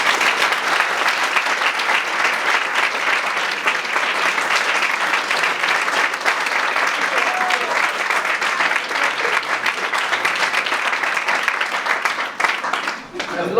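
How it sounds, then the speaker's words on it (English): A school assembly audience breaks into a big, sustained round of applause, dense clapping holding steady for about thirteen seconds before tapering off near the end. "so I think a big round of applause"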